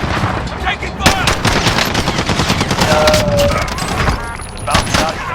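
Dense automatic gunfire and explosions in Call of Duty: Modern Warfare Warzone, rapid close bursts layered with distant shots and booms, loud and continuous throughout, with a voice speaking over the battle noise.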